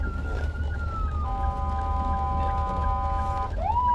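A siren wails nearby, one long falling tone giving way to a steady multi-tone blare, then rising again, over low traffic rumble.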